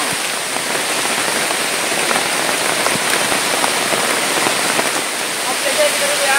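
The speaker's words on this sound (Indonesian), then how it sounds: "udah turun hujannya dah iya deras nih derasnya deras" Heavy rain pouring onto a tarp-covered cabin, a dense, steady hiss of drops drumming on the surface close by, continuous and loud for the whole stretch with no clear voices.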